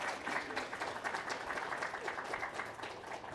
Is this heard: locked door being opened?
no